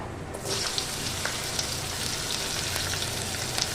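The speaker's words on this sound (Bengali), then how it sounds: "তেলটা বেশ গরম হয়ে গেছে দিয়ে দিলাম কালো জিরা ফোড়নে প্রথমে দিয়ে দেবো সাজনার ডাটাটা" Drumstick stems dropped into hot oil with nigella seeds in a pan, a sudden burst of steady loud sizzling and crackling that continues with scattered pops, no talking.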